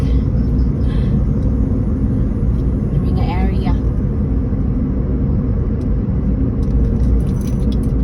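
Road traffic rumbling steadily nearby, a dense low drone of car engines with a brief higher whine partway through, heard with people talking over it.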